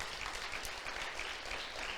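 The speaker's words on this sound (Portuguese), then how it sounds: "Aplauda o Senhor." Dense applause from a large church congregation, steady and continuous throughout, with no voices standing out.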